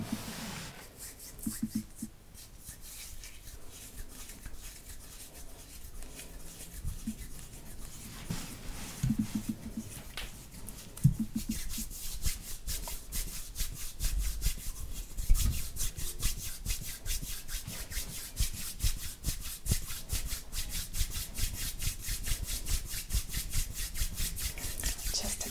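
Hands rub slowly and steadily over clothed shoulders during an ASMR shoulder massage. The soft, close brushing friction continues throughout and grows a little fuller and denser in the second half, with no talking.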